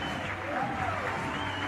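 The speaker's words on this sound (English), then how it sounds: "and this crowd is loving it." A baseball crowd cheers in the bottom of the eighth inning of a tied game after an RBI single, a broad steady roar beneath a commentator's voice.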